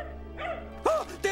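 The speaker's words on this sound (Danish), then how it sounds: "Det er et Buster! Hundealarm!" Dog barking in the Danish-dubbed animated film Toy Story 2, a few sharp close barks and yips in quick succession over a low steady background hum.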